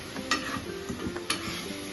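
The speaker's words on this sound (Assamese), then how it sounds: "এইখিনি অকণ ফ্ৰাই কৰি ল'ম এতিয়া শুকান কেৰাহীটোতে, অলপ লাহে লাহে লাহে লাহে ফ্ৰাই কৰি ল'ম" Crushed garlic, ginger, mejenga seeds and jaluk fry gently in a dry wok, giving a soft, close sizzle broken by a couple of sharp stirring scrapes.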